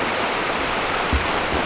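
Methane gas bubbling up through water at an old well site in Flaming Geyser State Park, a steady hissing, burbling wash of water noise close by with a slightly louder gurgle partway through.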